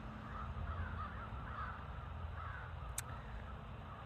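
Crows cawing as they gather at their roost, many birds calling over one another in a steady, moderately distant chorus with no speech.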